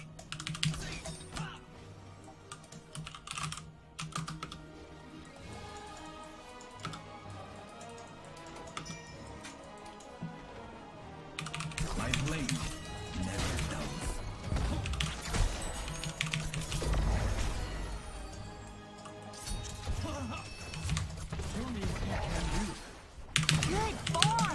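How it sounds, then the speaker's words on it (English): Frantic typing on a computer keyboard during Heroes of the Storm play, with dense rapid clicking that builds to a loud flurry over game sounds, with talk at times. "just spazzing out of my keyboard."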